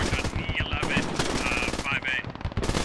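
Rapid automatic gunfire in a video game, firing into a militia fortress in Gorodok, dense bursts of shots close and loud, with a voice talking underneath.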